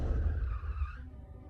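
A car braking hard, tires squealing in a sustained skid that cuts off abruptly as the vehicle stops, loud and close over a low engine rumble.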